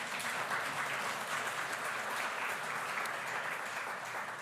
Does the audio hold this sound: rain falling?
no